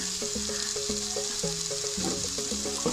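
Turmeric and black pepper powder fry in a hot pan while being stirred, giving a steady, close sizzling hiss under background music.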